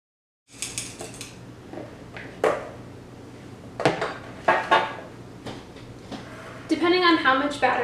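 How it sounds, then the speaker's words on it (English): Pancake batter scooped into a muffin tin. A series of close metallic clinks and taps from the scoop against the pan, irregularly spaced, with a voice talking in between. "I'm going to use my scoop and I'm going to fill each of the spots in the muffin tin"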